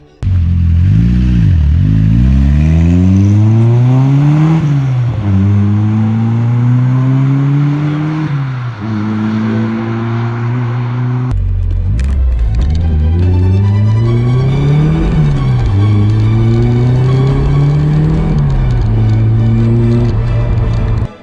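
Toyota RA40 Coupe with a 3TGTE engine swap on a test drive, a loud close engine rising and falling through repeated revs and gear changes, heard from inside the car with rattles and clatter.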